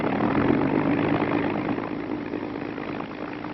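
Bell P-39 Airacobra aircraft engine running at a steady idle, a close, continuous rumbling drone that eases slightly toward the end, with no voices.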